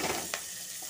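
Bay leaves, cardamom, cinnamon and cloves frying in hot oil for fried rice, giving a steady soft sizzle with a brief stir or scrape partway through, no talking.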